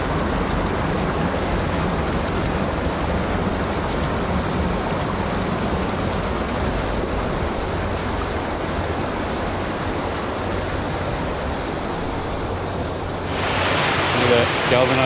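Water rushes steadily through a small tunnel linking salt water and a freshwater brook at a wildlife sanctuary, a broad continuous wash of flowing water that brightens and rises slightly near the end.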